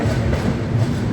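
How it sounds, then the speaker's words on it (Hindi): A Rajdhani Express passenger train rolls past while overtaking the Gorakhpur Panvel Express, a loud, close, continuous rumble of wheels on rails. "यहाँ पर वो कमी पूरी हो गई गोरखपुर पनवेल एक्सप्रेस का ओवरटेक करके"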